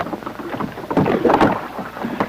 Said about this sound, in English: I love the sound of the oars.